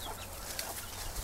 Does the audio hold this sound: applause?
no